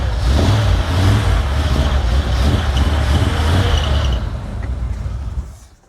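A 1980 Plymouth Volare that sat unused for years fires up and runs loud and close, its engine note steady and rough with a few revs, then cutting out near the end.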